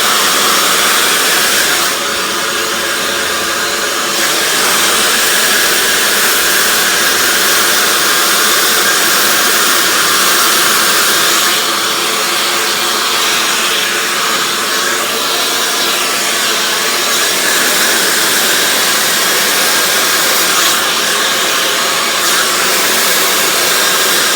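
A hair dryer blows hair straight in a steady, loud rushing roar that runs continuously, with slight shifts in tone as the airflow moves, and no voices.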